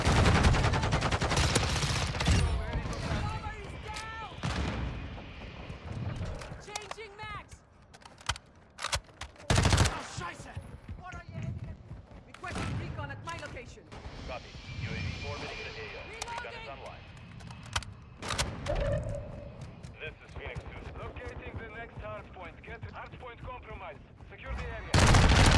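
Rapid automatic gunfire from the 55 gun in Call of Duty Modern Warfare 2, loud bursts and sharp shots recurring throughout with chaotic in-game effects and a voice talking over it.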